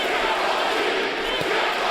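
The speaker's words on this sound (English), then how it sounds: "Crowd begins to chant" Boxing arena crowd at a Golovkin–Jacobs fight, Jacobs' hometown, chanting for Triple G: a dense, steady roar of many voices filling the hall, loud and continuous throughout.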